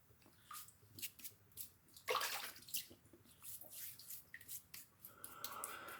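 Water splashing and running while something is rinsed off outdoors near a lawn, quiet irregular spurts and splashes with a brief louder gush near the middle.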